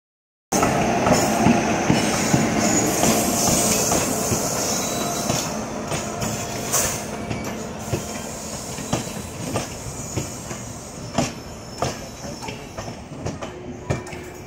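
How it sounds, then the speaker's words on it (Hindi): The Gorakhpur Intercity train rolls into Malhaur station. It is a loud, continuous rumble with rhythmic wheel clicks over the rail joints and occasional squeals, growing more clattery toward the end. No voices are heard. "गोरखपुर इंटरसिटी के हमारे जो आ रही है मल्हौर स्टेशन पर"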